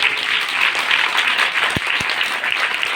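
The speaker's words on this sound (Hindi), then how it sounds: "इन दोनों का भी जोरदार तालियों से इस्तकबाल कीजिए" An audience at a school farewell ceremony for a Class IV sendoff gives steady, dense applause welcoming guests, with many hands clapping at once, loud and close, with a couple of sharp thumps partway through.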